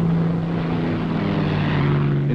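Propeller aircraft engines of a closely packed range on a carrier deck, a steady loud droning hum with a constant low tone held throughout, no voices.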